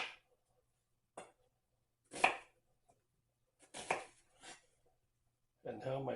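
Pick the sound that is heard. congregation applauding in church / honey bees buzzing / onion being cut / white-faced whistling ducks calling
onion being cut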